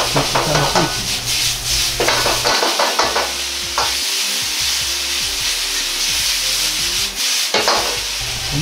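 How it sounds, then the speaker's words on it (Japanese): Wood ear mushrooms stir-fry with bacon in a pan, a loud steady sizzle overlaid by repeated scraping and tossing strokes of a utensil against the pan. "キクラゲにベーコンの旨味と塩味を移すようにして炒めていきます。"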